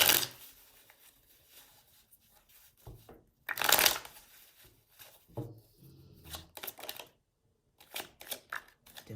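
Tarot cards are shuffled by hand in several separate bursts of crisp riffling and flicking, close and clear, with short pauses between them and no talking.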